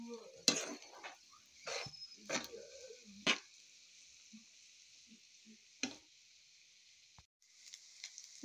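Leftover cooked rice stir-fried in a pan for vegetable fried rice, with intermittent scraping and clattering stirs and a faint steady sizzle between them, close and moderately quiet.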